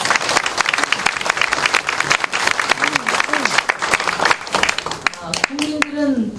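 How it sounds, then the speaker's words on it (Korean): A crowd at a party leadership meeting in Busan breaks into loud, sustained applause, many hands clapping densely throughout while voices speak and call out over it. "박수 한번 치셔야죠."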